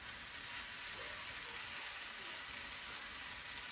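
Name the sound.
stirring fish sisig with lemon in the pan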